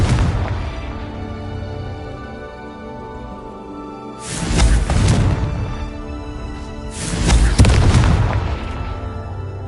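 Two booming blasts from a Confringo fire spell in a Harry Potter video game, each a loud broad burst with a rumbling tail, the second a few seconds after the first, over steady game background.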